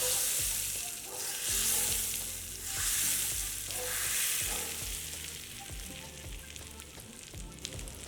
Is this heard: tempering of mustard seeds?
yes